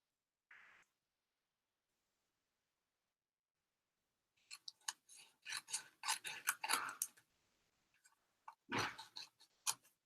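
Scissors snipping through paper in quick repeated cuts, a long silence, then a few more snips close by with no talking.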